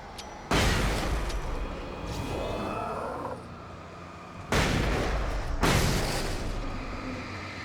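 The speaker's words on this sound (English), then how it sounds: "flare gun the blockade again. And flashbang the blockade." Alan Wake game combat with loud broadband booms: a sharp blast at the start, then two more heavy bursts later, each followed by a long noisy decay like a flare gun shot and a flashbang going off.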